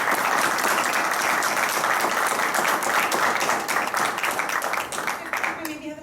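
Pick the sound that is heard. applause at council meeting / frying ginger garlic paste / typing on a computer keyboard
applause at council meeting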